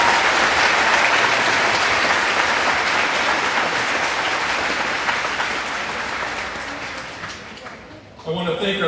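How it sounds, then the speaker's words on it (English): A high school graduation audience applauds the school staff with sustained, dense clapping that slowly fades, then a voice begins speaking at the very end. "Let's give our school staff a round of applause for all of their efforts to support our seniors."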